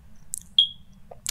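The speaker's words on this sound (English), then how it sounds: "I just heard like three notes of a xylophone." A phone notification chime, a short bright tone near the middle of a quiet gaming session, with a couple of fainter blips before and after; no talking over it.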